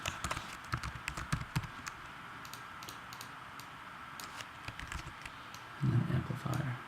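Computer keyboard typing while setting up a Max/MSP patch: scattered, light clicking keystrokes in short bursts, fairly close and quiet, with a brief louder rumble near the end.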